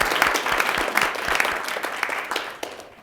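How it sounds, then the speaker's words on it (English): Audience at a poetry recitation competition applauding for the prompter, brisk clapping with distinct close claps that gradually thins and fades over three seconds. "A round of applause for our prompter this evening."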